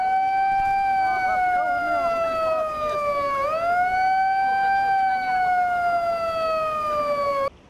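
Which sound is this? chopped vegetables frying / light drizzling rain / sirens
sirens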